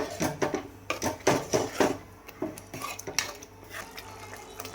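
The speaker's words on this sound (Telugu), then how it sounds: "ఈ మసాలాలన్నీ ఆయిల్ సపరేట్ అయ్యే వరకు ఇలా కలుపుతూ ఉండాలి." Garam masala and spices stirred in a pan for Andhra-style mutton paya, heard as uneven metallic clinks and scrapes of a spoon against the pan over a low sizzle, close up, with no voices.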